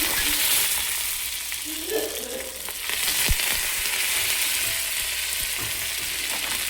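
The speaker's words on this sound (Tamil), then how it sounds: "நான் அடுப்பை நிறுத்திட்டு இந்த காஞ்ச மிளகாவையும் கருவேப்பிலையும் சேர்க்குறேன்." Dried chilies and curry leaves sizzle and crackle steadily in oil in a pan, with a soft stir or clink partway through and no voices.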